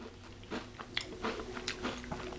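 Magic Spoon keto fruity cereal crunched while chewing, close to the mouth: a run of crisp bites and crunches in an irregular rhythm, loud and near, with no talking.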